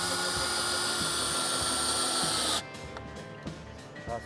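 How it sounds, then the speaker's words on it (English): A power drill drives long 140mm screws into a thick wooden block fixed to a post, whirring loudly and steadily before stopping abruptly, followed by quieter knocks and handling sounds. "We start by screwing in a thick wooden block to the post using the same"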